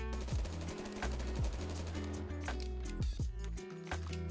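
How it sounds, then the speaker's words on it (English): An AUG A2 rifle fires in the Roblox game Jailbird, loud rapid automatic bursts with sharp repeated shots and short pauses between strings, close and without talk. "next up we have the AUG A2"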